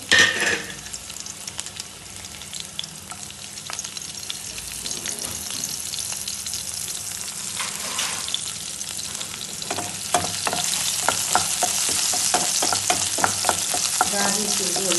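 Ginger, garlic and a green chili sizzle steadily in an oily pan, with continuous frying crackle and occasional spoon stirring that grows louder toward the end.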